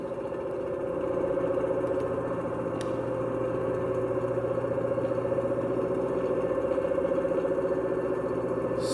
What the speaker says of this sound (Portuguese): O motor tá rodando, belezinha.